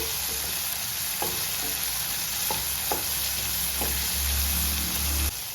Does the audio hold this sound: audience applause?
no